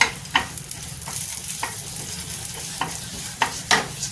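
Cumin seeds and panch phoron fry in hot oil over a low flame with a continuous crackling sizzle, while repeated light scrapes and taps of a spoon stirring the pan recur every half second or so.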